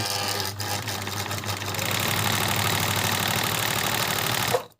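A Kenmore 158 sewing machine stitching, a loud, close, steady mechanical whir with a fast rhythmic chatter that runs evenly before stopping abruptly at the end.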